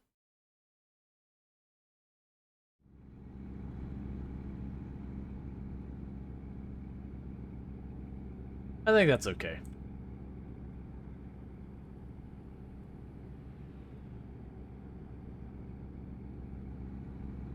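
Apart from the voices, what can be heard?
truck exhaust sound in American Truck Simulator video game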